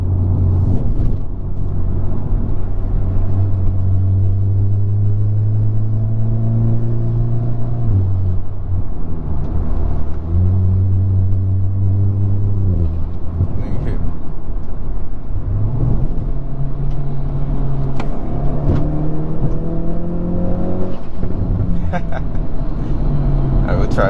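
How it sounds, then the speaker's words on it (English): Hyundai Veloster N accelerating hard through the gears from inside the cabin, its engine note climbing steeply, dropping at each shift and rising again, loud and close, several shifts in a row. "once you get over that first gear, that's where the car really comes alive."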